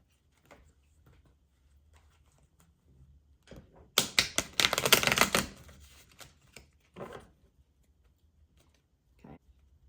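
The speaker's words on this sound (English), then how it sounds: "let me just do a quick shuffle." Tarot cards are shuffled quickly in a single dense burst of riffling and flapping lasting about a second and a half, with faint taps and soft handling before and after in a quiet room.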